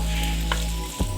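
Garlic and onion frying in cooking oil in a pan give a steady close sizzle, with a brief stirring scrape near the end.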